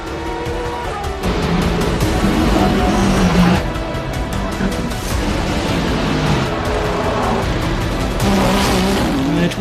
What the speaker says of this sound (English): Here comes the 51 Ferrari down the inside of 99